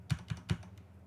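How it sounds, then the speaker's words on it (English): Three quick, distinct taps on a computer keyboard in an irregular rhythm, close and fairly quiet, followed by a couple of fainter keystrokes with no talking. "you can press tab on your keyboard 3 times to get the coordinates of the block you're looking at"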